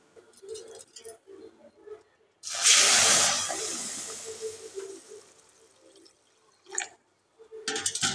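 Water hits a hot pan of frying fish curry masala, bursting into a loud sizzling hiss that slowly fades over several seconds, with someone talking before and after.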